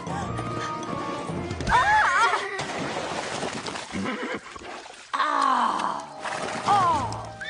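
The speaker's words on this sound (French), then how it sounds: "le cheval est coincé dans la boue" A horse stuck in mud whinnies several times, loud and close, amid splashing, thudding movement and muffled voices.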